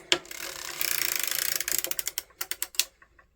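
A hand crank turns a circular sock knitting machine while a heel is worked, producing fast ratcheting mechanical clicks. The clicks start as a dense whir, then slow into separate, spaced clacks before stopping.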